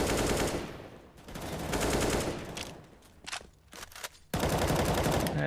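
Tech-9 pistols fire in a Counter-Strike pistols-only round on Nuke, with loud, rapid shots running together into long bursts that fade briefly and then return at full force.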